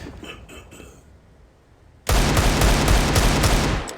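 Gunfire rings out in a Counter-Strike match at StarLadder Berlin 2019: a few quiet distant shots, a pause, then a loud sustained burst of rapid automatic fire for about two seconds, with no voices.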